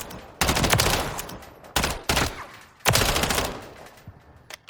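Three sustained bursts of rapid automatic fire from a Bren 805 rifle in Call of Duty Modern Warfare III, loud and close, each burst separated by a short pause and trailing off into reverb.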